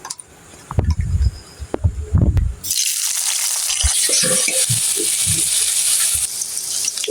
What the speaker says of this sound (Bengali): এই যে আমি তেলটা দিয়ে দিছি আমি পেঁয়াজ মরিচটি দিয়ে দিই